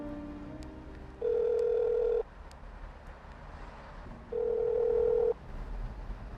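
A telephone rings out unanswered, two long electronic ring tones separated by a pause, clear and moderately loud over quiet room background, with no one speaking.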